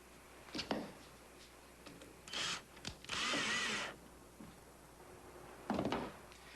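A power drill drives a single screw into the side panel of a homemade boat in short bursts of high whirring, with a longer steady run in the middle, separated by quiet gaps and light knocks.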